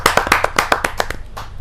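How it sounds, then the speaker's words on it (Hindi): Loud audience clapping at a Hindi kavi sammelan poetry gathering, a burst of sharp claps that starts strong and thins out over under two seconds. "आप हमें जोरदार तालियां"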